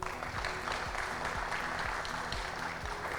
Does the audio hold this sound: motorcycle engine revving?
no